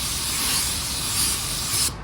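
A spray gun lays a second coat of metallic paint on a car body. A steady, close hiss of spray runs for about two seconds and then cuts off abruptly.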